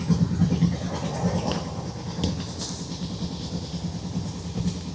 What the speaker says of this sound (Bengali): আওয়াজটা শুনতে পাচ্ছেন ট্রেনের